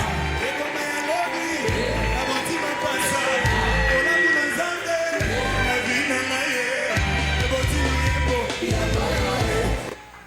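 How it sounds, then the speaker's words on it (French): A church congregation loudly acclaims and cheers during a worship service, with a dense, sustained wash of shouts, whoops and voices and a rhythmic low pulse beneath, continuing until it drops off sharply at the end. "On acclame le Seigneur."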